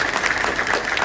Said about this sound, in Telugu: గట్టిగా చప్పట్లతో మనం అభినందన చేసుకోవాలి.